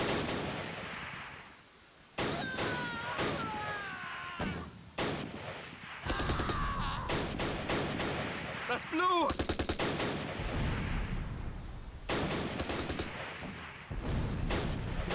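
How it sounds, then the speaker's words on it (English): MG42 machine-gun fire in the WWII strategy game Close Combat: Last Stand Arnhem, heard as repeated sharp bursts and booming shots amid other battlefield gunfire and game sound effects, loud and busy throughout. "Crap, that's MG42."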